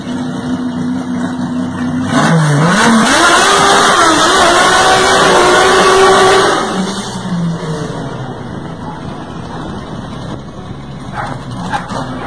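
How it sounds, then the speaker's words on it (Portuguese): A Chevrolet Opala with three carburetors revs hard, the engine rising in one strong sweep, holding loud for a few seconds, then dropping back to a rumbling idle nearby. "vamos ver um opalão com três fudendo carburador acelerando"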